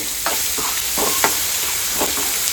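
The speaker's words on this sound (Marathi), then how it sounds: "आता फोडणी देऊन देते मी" Steady hot-oil sizzle of spices tempering for a fish curry, with a few scraping stirs of a spoon in the pan; no voices.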